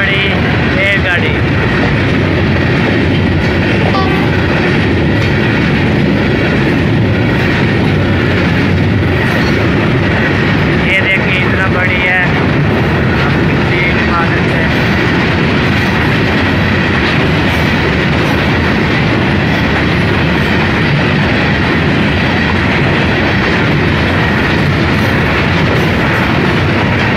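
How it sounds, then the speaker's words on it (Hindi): A long passenger train rolls past on railway tracks, a loud, steady rumble with rhythmic clickety-clack of wheels over rail joints running throughout, close and continuous, with someone talking over it. "ये जी देखें रेलगाड़ी आ रही है"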